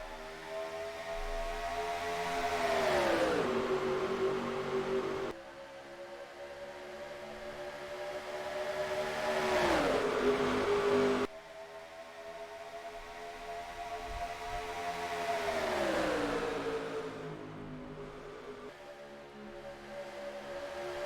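Stock car engines roaring past in a racing video game at Atlanta, several cars sweeping by in turn with rising then falling pitch, loud and droning, alone without talk.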